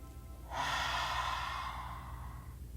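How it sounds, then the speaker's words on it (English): A slow, deep inhale followed by a long exhale during a kids' mindful movement session, one soft airy breath close to the microphone, alone with no talking. "We take a deep breath in, fill up our lungs, and we let all that stale air out."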